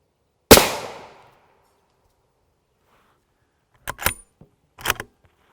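A rifle shot from a 24-inch TC Compass with a JK Armament kit strikes a Level IV body armor plate: one sharp, loud crack with a decaying tail, then two brief clattering bursts a few seconds later.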